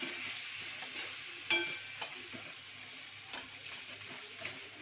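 Garam masala is stirred into a sweet-sour raw mango pickle, giving a quiet, continuous rustling hiss with faint scrapes and a few soft taps of a spoon against the pan.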